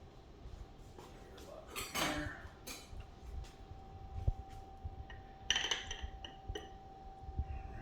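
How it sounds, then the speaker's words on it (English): Glass jar of fermented hot sauce being opened on a kitchen counter: a few soft clinks, taps and a brief rattle of the lid, fairly quiet and close, with no talking. "we're going to crack open our ferment"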